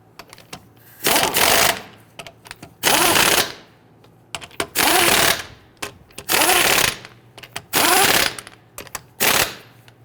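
Bursts from an impact wrench snugging lug nuts onto a Dodge Charger wheel, several loud rattling runs of about a second each separated by short pauses, close up and with no talk over them.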